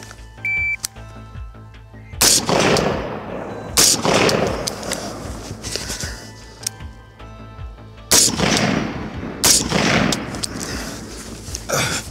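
Two strings of rapid rifle fire from a 7.62x39 AR-15 and an AK, each a quick run of sharp, loud, close shots followed by quiet pauses.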